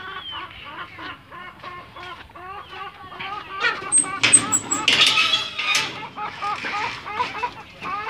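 Several chickens cluck and call in short bursts across the stretch, with a louder flurry of squawks in the middle, the birds close by in a pen.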